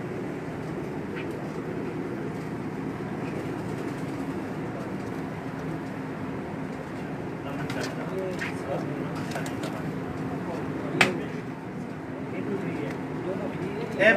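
Breeder pigeons in Umm Al Quwain coo softly among a steady background murmur, with low voices and a brief sharp knock partway through.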